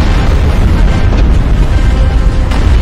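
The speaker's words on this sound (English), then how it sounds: "Bombardment incoming." Bombardment explosions in the Star Wars game Awakening of the Rebellion, a continuous loud, dense rumble of booming blasts with a few sharper bursts, no talk.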